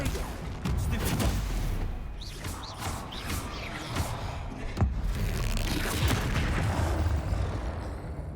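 Confringo fire spell blasts in a Hogwarts Legacy troll fight: loud booming explosions and crashing impacts over a dense rumbling low end, with several sharp bursts spread through the stretch.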